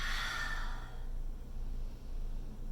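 One long open-mouth exhale during a yoga forward bend gives a breathy, airy sigh at the start, close to the mic and fading out, followed by quiet breathing-room tone.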